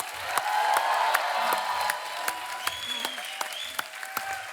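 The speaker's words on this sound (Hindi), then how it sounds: "क्या बात है, जोरदार तालियां हो जाए" Loud, sustained applause from a TV comedy show studio audience, dense clapping throughout with a few sharper claps standing out.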